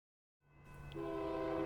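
A freight train passing through an industrial area sounds its horn, a sustained tonal blast that rises abruptly out of silence and grows louder over its brief duration, heard alone at moderate distance.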